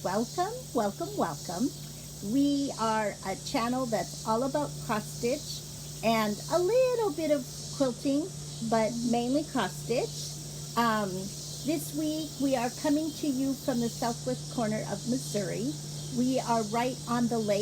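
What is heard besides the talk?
cicadas and katydids chirping at a lake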